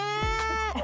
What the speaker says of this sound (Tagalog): gamutin ang kanyang mga alagang kambing